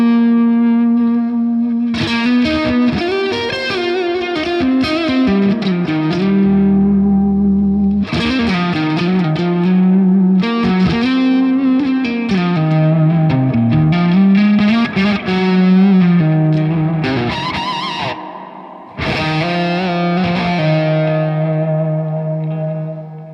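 Distorted electric guitar plays sustained chords and melodic lines drenched in lush plate reverb from a PolyChrome DSP Nunchuck pedal, loud and continuous, with a shimmering wash trailing each phrase.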